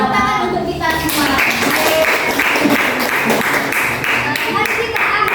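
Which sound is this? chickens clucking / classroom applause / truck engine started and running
classroom applause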